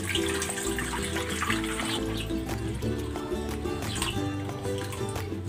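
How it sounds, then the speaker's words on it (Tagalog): Water runs steadily into a pot holding two kilos of ube, a continuous splashing flow with a hollow ring, close by, over low background hum throughout. "Lagyan natin ng tubig."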